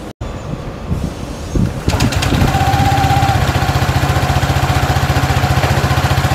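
A QJMotor LTR 150 motorcycle engine, after a short rumble, settles into a steady, rhythmic idle with an even pulsing chug, close and loud.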